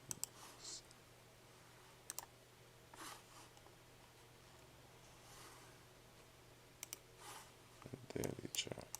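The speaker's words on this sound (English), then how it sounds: "let me click over on my other monitor real quick" Scattered computer mouse clicks at a desk while checking a stock chart on a second monitor, faint and sparse, with a denser burst of clicks near the end over low room hum.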